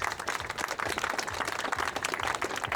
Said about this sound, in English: please have a big round of applause to the judges